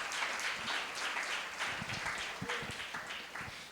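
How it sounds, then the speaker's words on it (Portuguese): A church congregation at a retreat applauds the Lord Jesus with brisk, continuous clapping at moderate volume. "Aplauda o Senhor Jesus."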